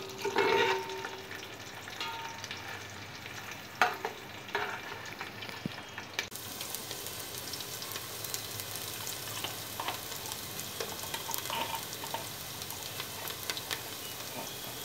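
Green chillies and onions fry in a pan for chicken dum biryani, a low continuous sizzle with occasional stirring knocks, brightening into a fuller hiss midway, close and quiet.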